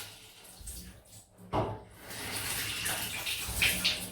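Tap water running to rinse a safety razor at a bathroom sink during a wet shave, a steady close splash that swells about halfway through and continues to the end.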